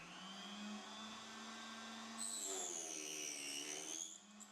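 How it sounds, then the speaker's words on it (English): A KS230 table saw with a vacuum cleaner attached to its suction connection gives a steady, fairly quiet motor whine, and partway through a higher, rising pitch comes in and carries on until the end. "a vacuum cleaner can be attached to the suction connection on the KS230"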